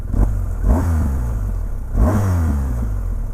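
A BMW 1250 GS motorcycle engine revs sharply twice, each blip rising quickly and settling back to a steady idle, loud and close with no talking.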